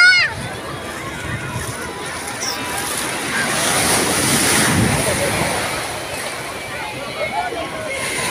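Sea waves wash and surge steadily at a beach in Alexandria, with wind buffeting the microphone and a broad swell of surf building in the middle before easing off.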